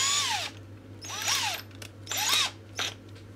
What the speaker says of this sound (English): you change the drill to either the step drill that I got